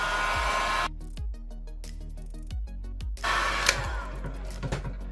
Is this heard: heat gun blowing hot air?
yes